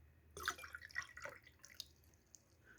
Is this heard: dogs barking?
no